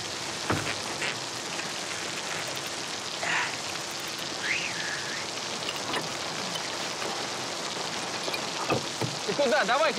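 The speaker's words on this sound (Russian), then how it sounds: "Смотри, какой дождина поливает." Heavy rain pouring down steadily, a dense continuous hiss with occasional louder splashes, and people talking briefly over it.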